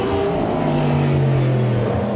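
A Cadillac race car engine passing, a loud sustained engine drone with a falling pitch as it goes by, heard alone without talk.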